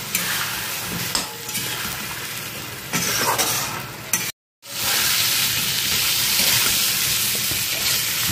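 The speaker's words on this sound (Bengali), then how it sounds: "যাতে আলুগুলো এর সঙ্গে একটু মশলার সঙ্গে ভাজা হয়।" Steamed potatoes fry and are stirred in spice paste in a pan for Bengali fish curry, giving a loud, continuous sizzle with scraping stirs that breaks off briefly midway and then resumes.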